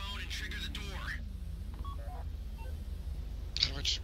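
Phone hack dialing tones from GTA V during the Fleeca bank heist, a short run of electronic beeps near the end under steady game music and ambience, with a voice speaking earlier.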